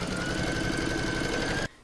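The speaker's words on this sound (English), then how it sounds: "I'm now going to pop that back in my machine and stitch round number two" Embroidery machine stitching an in-the-hoop bunny mug rug, a steady fast mechanical needle chatter with a constant hum, close and loud, stopping abruptly near the end.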